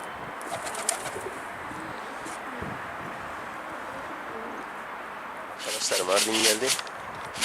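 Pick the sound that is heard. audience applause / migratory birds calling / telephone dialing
migratory birds calling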